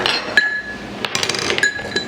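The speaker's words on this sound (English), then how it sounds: "Ephraim, you can stir this salt in there" Spoon stirring salt into water in a drinking glass, a run of sharp clinks and taps against the glass with a couple of ringing strikes, close and fairly loud, no talking.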